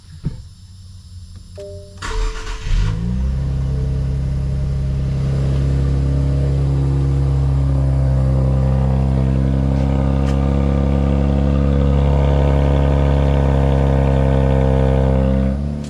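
A Nissan Z engine cranks and catches, then settles into a steady, loud, close idle as it warms up, with a continuous rumble and no talking.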